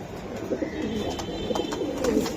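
Pet pigeons kept for sale, including Giribaz, Homer and Military breeds, cooing continuously up close with soft throaty pulses over a busy background.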